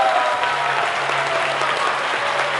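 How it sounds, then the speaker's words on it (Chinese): A hall audience claps steadily and loudly for a raffle winner at a large indoor gathering, a dense continuous wash of applause with no talk over it. "好，掌声给他鼓励，他独得。"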